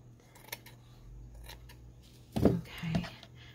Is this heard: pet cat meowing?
no